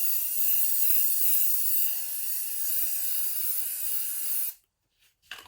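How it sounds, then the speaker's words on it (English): Spray from a can misted onto a portrait drawing: a steady, bright hiss lasting about four and a half seconds, then an abrupt stop and a short final puff. "A tiny touch of spray."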